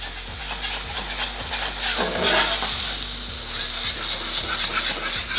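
Smash burgers on an electric indoor flat top grill, sizzling steadily while a sharp metal spatula scrapes underneath to flip them, with a low repeating electrical hum beneath the frying.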